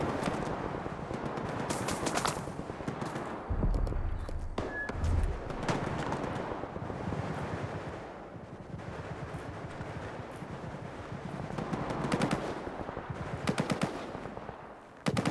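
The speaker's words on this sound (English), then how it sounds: "I don't know what they're shooting at." Gunfire in the video game Stalker 2: rapid machine-gun bursts and scattered shots crackle almost continuously, with heavier thuds mixed in and flurries of louder volleys near the middle and end.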